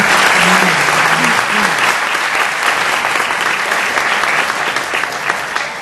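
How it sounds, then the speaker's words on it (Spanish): Loud, steady audience applause for vallenato composers at a poetry-and-songwriting panel, a dense continuous wash of clapping from a seated crowd, with a brief voice near the start. "Y pido un aplauso para estos compositores."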